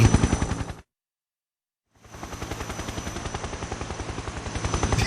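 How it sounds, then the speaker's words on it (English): A helicopter gunship in Metal Gear Solid 3 thumps with rapid rotor beats or gunfire pulses, loud and close, cut by a second of silence before the chopping resumes steadily. "Nobody heard the helicopter coming."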